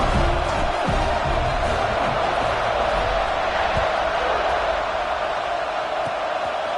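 Stadium crowd noise in a football video game, a steady, dense roar of many voices that holds at an even level throughout without clear peaks.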